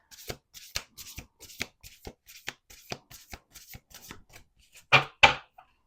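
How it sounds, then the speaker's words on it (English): A deck of oracle cards is shuffled by hand in a run of quick, crisp riffling bursts, close and distinct, ending with two louder snaps as the deck is squared. "Let's do 2 more shuffles."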